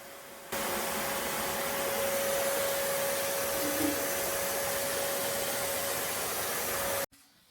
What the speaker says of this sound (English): this was the Hoover attachment I was using. It takes the ash straight into here rather than getting it in your Hoover bag